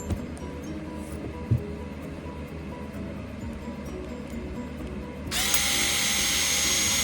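A cordless power drill backs screws out of an aluminum caster block, low mechanical rumble and clicks before the motor kicks in loudly and spins steadily near the end.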